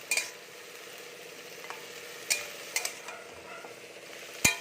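Vegetables cook quietly in a pan, salted and about to be covered to steam through, with a soft steady sizzle and a few brief utensil scrapes and clinks scattered through it, the loudest near the end.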